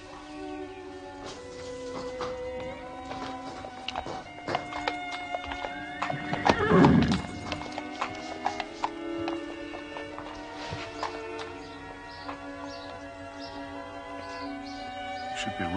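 A horse whinnies loudly midway through, and its hooves clip-clop steadily throughout against a busy musical backdrop in a period English country setting at Shoscombe, where the horse is the racehorse Shoscombe Prince.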